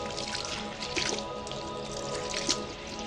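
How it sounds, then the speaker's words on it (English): Water runs from a tap as soap is rinsed off hands, a steady trickle with soft splashes and a couple of louder drips, close and fairly quiet. "rinse off the soap under running water"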